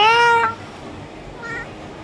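A hyper, playful house cat meows twice up close, first a long, loud call and then a shorter, softer one after a brief quiet gap.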